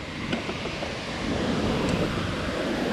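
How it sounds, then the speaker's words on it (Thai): Waterfall at Raman waterfall in Thailand, a broad continuous rushing hiss of falling water heard from a forest trail, steady and moderately loud with slight wind buffeting on the microphone. "ด้านขวานี่เป็นน้ำตกครับ"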